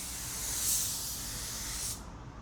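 A spray gun hisses out clear coat at correct viscosity, a sharp, steady, close spray lasting about two seconds before it cuts off abruptly.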